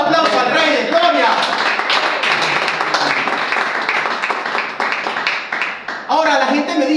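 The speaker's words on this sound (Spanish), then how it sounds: "Dale un aplauso al Rey de Gloria." A church congregation claps and applauds at a sermon, a dense continuous patter of many hands lasting several seconds, with voices speaking and calling out over it.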